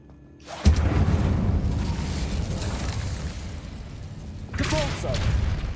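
In Hogwarts Legacy, the Incendio fire spell erupts with a sudden whooshing burst that settles into a sustained roar and slowly fades, then a second flaring burst with bright whistling tones follows near the end, with a voice faintly present.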